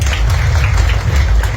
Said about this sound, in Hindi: आप सभी ताली बजाकर इनका स्वागत करें